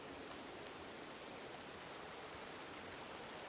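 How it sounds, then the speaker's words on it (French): Steady rain falling in a video game, a continuous dense hiss with no breaks, close and even throughout, with no talk over it. "Il pleut des cornes, il pleut tout le temps, de toute façon."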